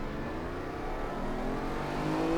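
Lamborghini Diablo launching in Assetto Corsa racing game, a loud continuous engine roar with a rising tone as it accelerates, close and steady with no speech.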